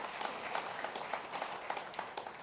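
An audience at a police summit at Emperors Palace breaks into steady applause during a presidential address, a continuous patter of many hands clapping at moderate distance and fairly low level, with no speech over it.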